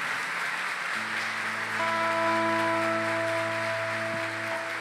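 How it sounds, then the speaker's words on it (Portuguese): A church congregation applauds steadily, a broad, even wash of clapping that holds throughout, with sustained keyboard or organ notes entering under it. "Aplaude a palavra do Senhor"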